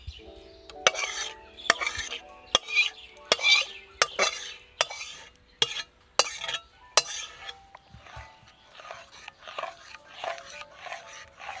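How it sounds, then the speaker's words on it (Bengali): Mango kheer made with ripe Himsagar mangoes stirred in a wok, with a spoon scraping and clinking against the metal in a steady rhythm of sharp taps and swishes, loud and close. "এইভাবে নেড়ে দেবো, পুরো একদম মিশে যাবে"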